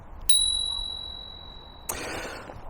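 A bicycle bell rings twice: one bright ding that rings out and slowly fades, then a second sharper, rattling ring.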